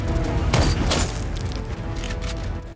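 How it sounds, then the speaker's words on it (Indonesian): Loud gunfire from an Indian war film with heavy booming blasts and rapid bursts over a low rumbling background, ending abruptly. "Tapi akibatnya, giliran Vikram yang kini terkena tembakan."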